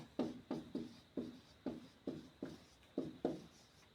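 A word being written on a board, with eight or nine short scraping marker strokes in a steady, fairly quick rhythm, close and clear against a quiet room.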